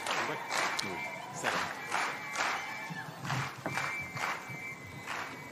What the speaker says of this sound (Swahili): Tupikie makofi ya kilo moja